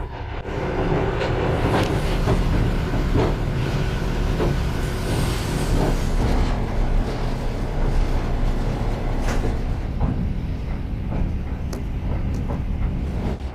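Passenger train on the Vladivostok–Moscow route running on rails, heard from inside as a loud, steady low rumble with rhythmic clatter and occasional metallic knocks throughout.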